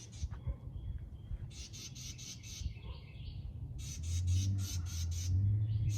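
A bird squawks in repeated bursts near a nest that has been moved, loud and close, while people talk around it.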